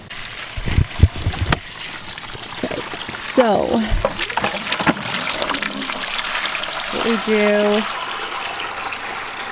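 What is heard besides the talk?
gray water system running water out of a hose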